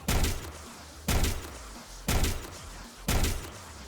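Last Word hand cannon from Destiny 2 firing four evenly spaced, loud, punchy shots about a second apart, each a sharp broadband crack with a booming low tail, no talk.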